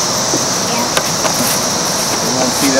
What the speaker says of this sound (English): You hear the cicadas out here?